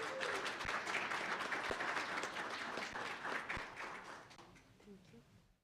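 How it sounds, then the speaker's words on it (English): Summit audience claps for a presenter: a dense burst of applause that holds steady for several seconds and then tapers off toward the end, with some voices mixed in. "Quick round of applause for Alyssa Quintan."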